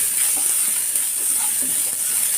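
Onion and garlic sauté in a pan, giving a constant, even hiss and soft sizzle that holds at one level throughout, with no voices.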